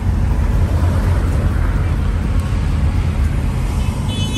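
Dense street traffic in Cairo, a loud continuous roar of engines and tyres with a deep low rumble, near and unbroken, with faint hints of distant voices.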